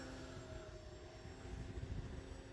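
An E-flite T-28 Trojan RC airplane flies overhead with a steady, faint motor drone and a thin whine, distant and continuous with no voices.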